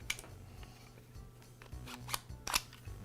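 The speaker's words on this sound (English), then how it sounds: "I'll begin by removing the base from the router." Base being removed from a Ridgid laminate trimmer router, a few short plastic-and-metal clicks and snaps close by, quiet, over a faint low hum, with no talking.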